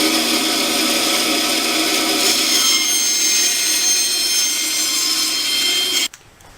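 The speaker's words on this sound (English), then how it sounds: "cut it out on the bandsaw" A bandsaw cuts through a piece of clear pine, a loud, steady, high whining buzz that holds for about six seconds before the cut ends and the sound drops off sharply.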